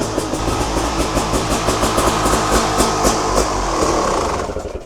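Motorcycle engine fitted with a Chinese clone billet carburetor runs loud and rough at close range, then sputters and dies as the float bowl runs dry with the fuel tap off.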